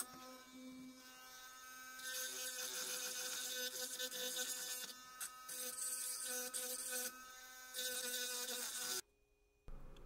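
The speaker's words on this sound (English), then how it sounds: "we're taking the burr tool on the Dremel and just flattening out the post and taking the burrs off around the edges" A Dremel rotary tool with a burr bit grinds down a metal post on a 1982 Toyota Supra Matchbox model, a close, high-pitched whine with gritty bursts of grinding that cuts out near the end.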